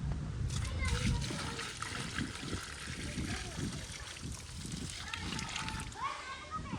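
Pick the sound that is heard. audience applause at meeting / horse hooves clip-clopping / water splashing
water splashing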